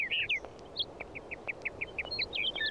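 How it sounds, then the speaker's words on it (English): Birds in the Syberia video game chirping loudly, a rapid series of bright repeated tweets and whistled notes over a faint background hiss. "Also, the birds are fucking loud."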